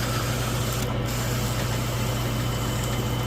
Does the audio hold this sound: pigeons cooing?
no